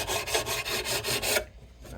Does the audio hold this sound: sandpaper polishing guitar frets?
yes